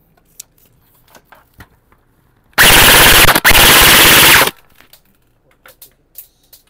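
A firearm is test-fired on full auto: one loud, sustained burst of rapid gunfire lasting about two seconds, with a brief break partway through, set against a quiet background with faint handling noises before and after.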